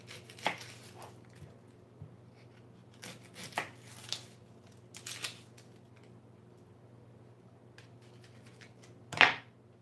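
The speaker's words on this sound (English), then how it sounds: "Now I'm going to cut up my onion." An onion being cut up on a board in a home kitchen at night: a handful of sparse, sharp knife chops spread out over quiet room hum, with one louder, crisper chop near the end.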